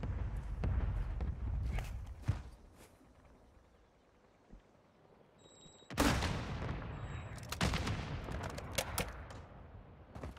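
Marksman rifle fire in Call of Duty: Modern Warfare II, with sharp reports scattered across the stretch amid other battle noise, a quieter lull in the middle, then a loud burst of shots and clatter returning at around six seconds.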